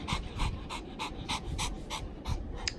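A nine-month-old puppy pants close by, with quick, even bursts of breath repeating about every third of a second throughout, and no voices.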